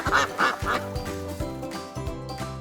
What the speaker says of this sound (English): That's right, it's a duck.